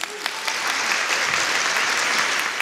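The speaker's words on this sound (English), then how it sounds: "Big round of applause to them, please." An audience at the West Covina State of the City event in 2023 applauds police officers, dense continuous clapping that swells quickly and holds steady throughout.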